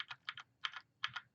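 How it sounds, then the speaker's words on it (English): A computer keyboard clicked at close range, four quick paired key taps spaced evenly, crisp and faint in a quiet room. "I hit a key on my keyboard."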